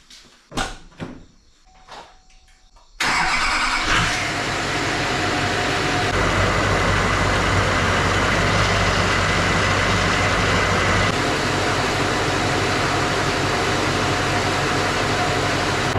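A Duramax diesel pickup truck with a freshly rebuilt front end cranks over and catches after a few knocks and clunks, then settles into a loud, steady idle rumble that runs on without pause.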